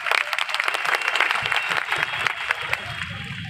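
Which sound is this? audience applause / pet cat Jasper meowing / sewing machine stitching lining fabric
audience applause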